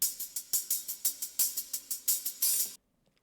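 An unprocessed hi-hat loop from a trap-style music production beat, a rapid bright ticking pattern of crisp hits with short decays, steady and alone, cutting off abruptly after under three seconds.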